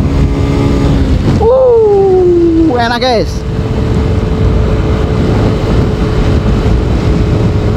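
Underbone (bebek) motorcycle engine revving up as the rider opens the throttle, a loud, close rising whine that climbs in pitch, then drops and settles into a steady drone, with someone talking briefly over it.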